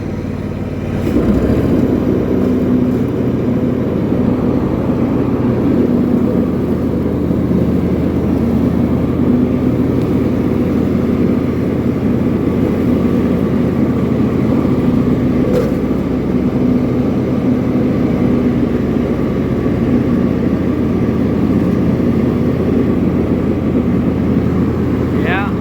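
Engine of a John Deere riding mower that had sat unused for two years, idling at turned-down RPM outdoors near tall grass: a steady, loud, continuous drone with no pauses.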